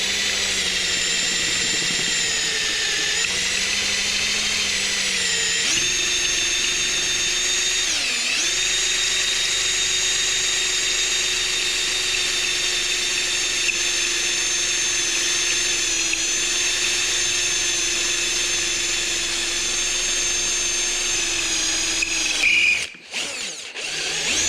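A power drill bores through an aluminum handlebar riser on a 2022 KLR 650 motorcycle, a loud close steady whine lasting over twenty seconds with brief pitch dips as the bit bites, then stopping with a few clatters.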